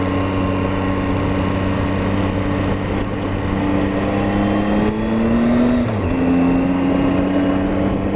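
A 2018 Triumph Tiger 800 XRT motorcycle is ridden on a Scottish road near Applecross, its engine holding a loud, steady droning hum that dips and rises briefly as the rider shifts gear, with wind noise behind it.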